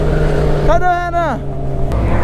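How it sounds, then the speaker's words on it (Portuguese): A Jaguar car engine revs up sharply and roars past nearby, its pitch sweeping up then falling away within about a second, over steady road noise, heard from a motorcycle. "O Jaguarzão passou."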